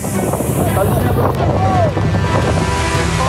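Wind roars and waves surge around a fishing longboat at sea during a storm, with loud buffeting wind noise on the microphone and churning water throughout, and a voice faintly audible beneath.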